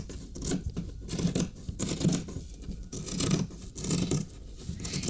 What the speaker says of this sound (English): now I can cut back my seam allowance.